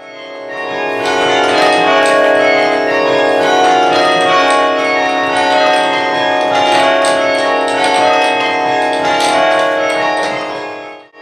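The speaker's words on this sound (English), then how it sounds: "So they're all fixed bells rung by pulling ropes, and we have people play tunes and chimes on it and peals." Fixed church tower bells at St John's Parramatta rung by pulling ropes, a loud sustained wash of overlapping ringing tones with repeated strikes layering and decaying continuously.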